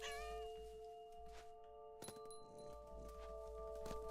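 A cat meows in a video game, a soft, faint call against steady tonal game music with occasional chimes and clinks.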